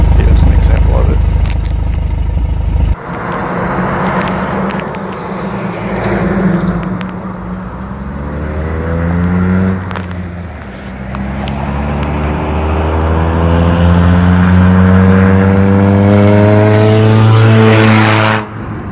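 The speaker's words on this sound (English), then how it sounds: "there's no catalytic converter on it, so this is why it's so loud, and here's an example of it" A 1999 Honda Accord Coupe running without a catalytic converter roars loudly as its exhaust revs repeatedly, with rising and falling engine tones that hold steady near the microphone for most of the stretch.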